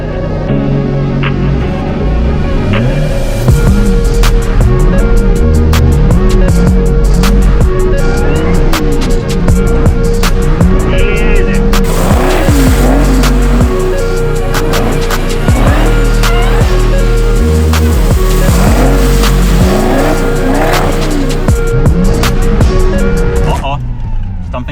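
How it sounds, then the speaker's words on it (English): A C5 Corvette with traction control switched off does donuts at night, its engine revving repeatedly in rising and falling surges, loud and close, with a steady underlying drone for the whole stretch. "we're about to do our first donut test."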